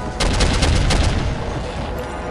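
Rocket fire in the Soldier of Fortune shooter game: a loud, dense run of rapid blasts and crackling bursts that fades into a rumbling tail, with no one talking.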